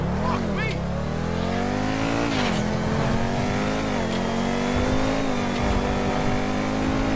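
A Pegassi Osiris supercar in GTA V drives flat out, its engine revving high and shifting through gears with steady roaring pitch sweeps, and a voice talks over it.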